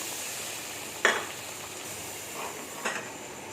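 Chicken masala with yogurt frying in butter and oil in a karahi gives a soft, steady sizzle, broken by a couple of sharp stirring clinks against the pan.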